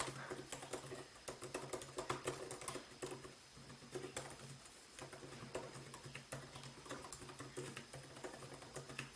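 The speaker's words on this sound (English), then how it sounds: "They did bring back the scissor switch keyboard, which is a great replacement." Rapid, steady clicking of an Apple MacBook Pro 16-inch scissor-switch laptop keyboard being typed on, close by, with soft uneven patter and no voices.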